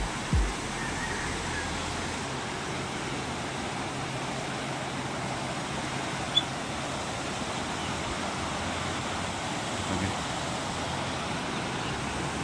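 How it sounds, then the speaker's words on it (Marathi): The Godavari river rushes and babbles beside an old British-era bridge, a constant broad roar of flowing water that holds steady throughout, with one small click and no speech. "इकडे गंगा गोदावरी माताचं पाणी वगैरे खळखळणारं पाणी मित्रांनो एकदम"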